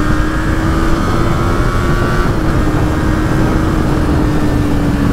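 A motorcycle engine screams at about 8000 rpm while overtaking, loud and close, holding a steady whine that climbs slightly as it pulls hard.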